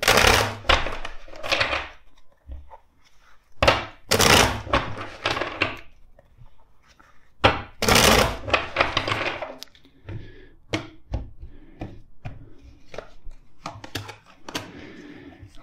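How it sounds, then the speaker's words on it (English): Tarot cards being shuffled by hand, a series of crisp riffling and slapping bursts with uneven pauses between them, close and fairly loud with no talking. "Let's shuffle some more, three times."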